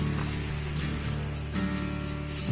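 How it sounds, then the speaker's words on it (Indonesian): Steady rain falls in Halimbe village, a soft continuous patter at moderate distance with no voices, a constant wash of drops on surfaces. "Masih dengan hujan yang belum juga reda"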